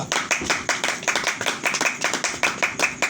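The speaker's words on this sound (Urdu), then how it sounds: "زوردار تالیاں" A church congregation clapping loudly in unison, a fast, regular rhythm of sharp hand claps, about four per second, close and strong without any talking.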